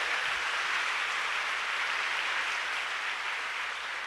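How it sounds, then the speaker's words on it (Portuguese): A steady, even wash of applause fills a church service, continuous and fairly soft, like a large congregation clapping at a distance with no breaks or voices standing out. "Pode aplaudir, pode aplaudir, pode aplaudir."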